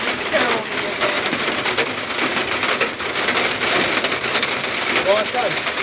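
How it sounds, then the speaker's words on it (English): A hard rain and hail storm pounds outdoors, a dense, steady hiss of heavy drops with crackling hits on surfaces, while voices murmur faintly underneath. "Hard rain though. Hard rain."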